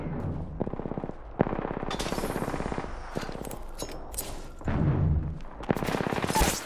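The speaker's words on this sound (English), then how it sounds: "Taking fire, brothers. Firing. Getting shot at." Rapid bursts of automatic gunfire in Apex Legends rattle close and loud, with short pauses between strings of shots and a few heavier impacts mixed in.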